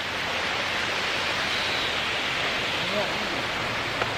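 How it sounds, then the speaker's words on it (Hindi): A waterfall at Saputara hill station gives a constant, even rush of falling water that fills the scene, with faint voices in the background. "देखो क्या वाटरफॉल है अपने पीछे"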